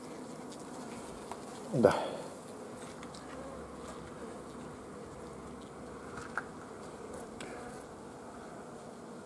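A honey bee colony drones around its queen in the hive, a constant close hum with one sharp buzzing sweep early on, like a bee passing near, and a brief spoken word.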